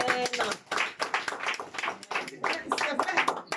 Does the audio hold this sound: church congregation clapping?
yes